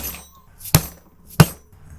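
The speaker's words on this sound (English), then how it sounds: "this seal just hammers out from the front" Two sharp, close hammer blows about two-thirds of a second apart, driving an old seal out of a 1992 Jeep Wrangler YJ case with a socket, with quiet pauses between strikes.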